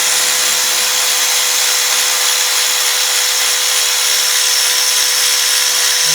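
Loud, steady whine of a power tool working on a sway bar bushing bolt on a 2012 Chevy Impala, running continuously and close up.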